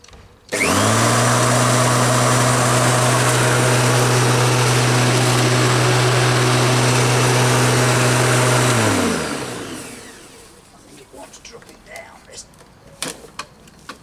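An electric lawn mower motor under repair whirs up abruptly, runs at a loud steady hum for about eight seconds, then winds down and stops, leaving quiet clicks and handling noise.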